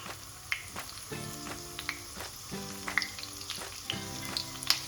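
Garlic and curry leaves fry in hot oil for a lima bean curry, giving a steady close sizzle with soft pops and crackles throughout and no voices.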